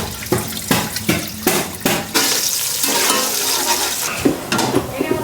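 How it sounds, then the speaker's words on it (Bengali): Onions frying in oil for beresta, a steady crackling sizzle running through with repeated sharp clanks of a spatula stirring in the pan, fairly loud and close. "বেরেস্তা ভাজা শেষ।"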